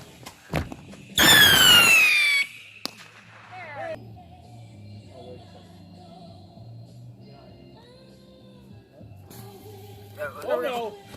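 Fireworks go off at night, a loud crackling burst with a whistling squeal lasting about a second, then quieter distant pops and low rumble, with a faint sharp crackle returning near the end.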